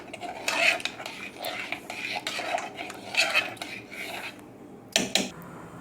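A spoon scrapes and clinks around a pot of cooked dal in several rhythmic stirring strokes, close and fairly loud, ending with a sharp metallic tap.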